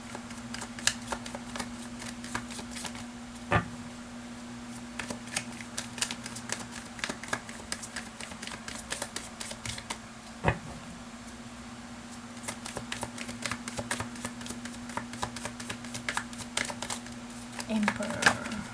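Tarot cards shuffled in quick, crisp riffles, a steady run of papery flicks and soft slaps that sound close and fairly quiet, with a couple of sharper card snaps.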